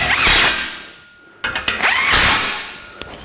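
Fastening hardware on a radiator fan bracket for a 1949 Chevrolet gasser: short bursts of a power tool or ratchet whirring, separated by a quiet pause, with sharp clicks and metallic knocks, close and fairly loud.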